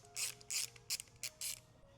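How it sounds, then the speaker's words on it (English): Torx T20 driver backing a screw out of a camera mount housing, giving five quick ratcheting clicks in short bursts, close and fairly quiet. "So now I'm back with a T20 to remove the camera."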